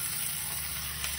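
Beef frying in melted margarine for homemade burgers, a steady close sizzle and crackle of fat running without pause and with no talk.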